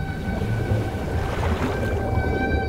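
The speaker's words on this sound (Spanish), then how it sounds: "el sonido viaja más lejos en el agua que en el aire, por lo que para las ballenas es de suma importancia como una forma de comunicación, tan famoso como el canto de la ballena jorobada" A humpback whale sings underwater, its long sustained tonal moans carrying steady harmonic overtones over a low watery rumble, with no voices present.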